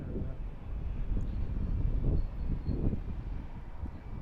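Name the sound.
airplane engine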